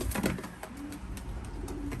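Young racing pigeons, about 30 days old, coo softly in a loft, low repeated throaty murmurs with faint rustling around them and no talking.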